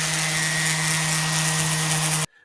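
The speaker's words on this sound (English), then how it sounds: "I'm using a power sander just because I have one, but you could do this with just sandpaper by hand." Steady high-pitched whine and buzz of a power sander sharpening a lawnmower blade, close and constant for a little over two seconds before cutting off abruptly.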